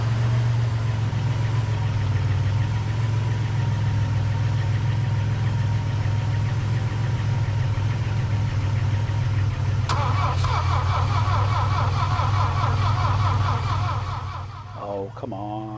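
A Saab Sonett III, first started in 12 years, runs with a steady, loud low engine drone. Partway through a harsher, rattling layer joins in, and near the end the sound dips as a voice breaks in.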